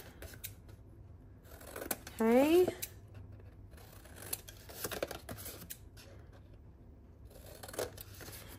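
Scissors snip off the corners of a folded card for a double-hinge paper craft box, a short crisp cut near the middle amid light handling noises, with a voice speaking briefly.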